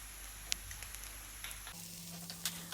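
Egg fried rice stir-fried over a high flame: a continuous close sizzle with occasional sharp clinks and scrapes of the spatula in the pan over a steady background hum, no voices.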